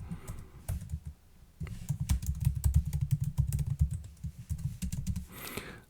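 Keystrokes clatter on a computer keyboard in a burst of steady, fairly close typing, with brief pauses between runs of rapid clicks and no talking.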